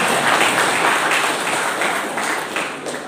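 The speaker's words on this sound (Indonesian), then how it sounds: "Tepuk tangan." Audience applause at a mental and discipline guidance gathering for Ministry of Religious Affairs civil servants in East Lombok: a dense, steady wash of many hands clapping that holds for a few seconds and eases slightly toward the end.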